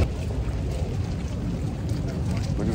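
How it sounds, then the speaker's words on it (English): A boat ride on an Italy trip gives a steady low engine-and-water rumble with wind buffeting the microphone, loud and continuous throughout. "I'm on a boat."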